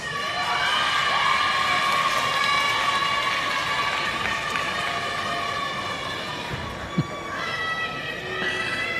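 A large contingent cheers for a police superintendent receiving the Medal of Honor at Jamaica's National Honours and Awards ceremony, steady crowd noise sustained throughout with whistle-like tones, under a commentator's voice.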